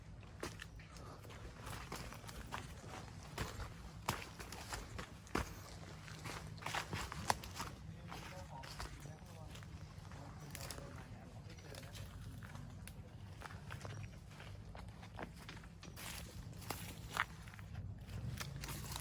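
Steady footsteps crunch and shuffle over leaf litter outdoors, with birds and cooing doves in the distance and occasional faint voices.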